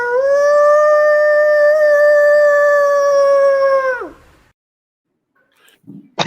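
A person imitates a wolf howl with one long, loud, steady wavering note held for about four seconds that falls away at the end, followed by silence and a faint noise.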